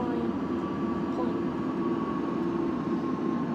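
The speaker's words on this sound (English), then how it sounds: "So very nice sound for the Central Line" London Underground Central Line train running in automatic mode in the OpenBVE simulator, heard from the front carriage as a steady, continuous rumble with a faint whine. The level stays even throughout.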